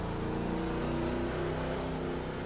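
A pink Cadillac engine in The Crew 2 video game drones and revs continuously with a steady, buzzing tone, loud and close, with no pauses and no voices.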